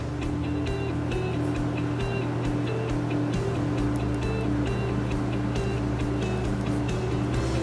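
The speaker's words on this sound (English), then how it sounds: "we're going to start sewing right about there" Sewing machine stitching the shoulder seams of a hooded sweatshirt, a steady mechanical whir with regular rhythmic ticking that runs throughout at a moderate, even level, with no talking.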